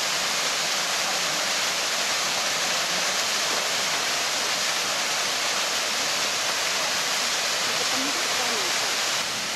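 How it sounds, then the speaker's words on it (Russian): Small waterfall on a mountain stream in Abkhazia, a steady, full broadband rush of falling water that stays loud and unbroken throughout with no voices. "Вполне себе водопадик."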